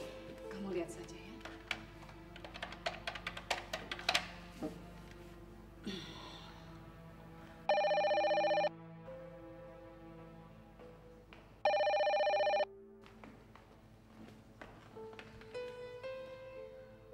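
A telephone in an Indonesian TV drama rings in two loud, steady electronic bursts separated by a pause, with music and voices around it.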